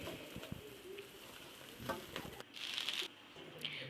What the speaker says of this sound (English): Then you give it a stir.